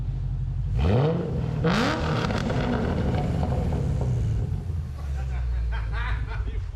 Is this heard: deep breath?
no